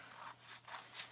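Scissors cutting a circle from black medium-weight chipboard, three or four faint close snips in a quick rhythm with no talking.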